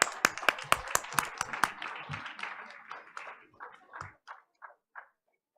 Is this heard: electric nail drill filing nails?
no